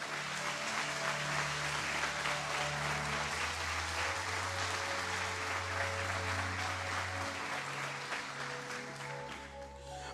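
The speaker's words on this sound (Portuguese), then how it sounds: "Pode aplaudir Jesus, amado." A church congregation claps in a sustained, even roar for about ten seconds, with low sustained organ or keyboard chords droning beneath and the clapping thinning slightly at the end.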